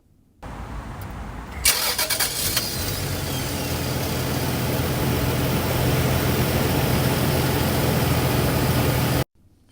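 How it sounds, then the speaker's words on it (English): A 1989 Toyota Supra Turbo with five-speed manual, recorded by a microphone near the rear bumper, cranks briefly and fires up, then settles into a steady, rumbling idle that holds for several seconds, loud and unaccompanied by speech. "So you can hear that engine idling now."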